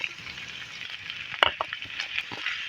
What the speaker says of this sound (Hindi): मैं इसको लगभग कोई 10-15 मिनट के लिए पकाने वाला हूँ इनको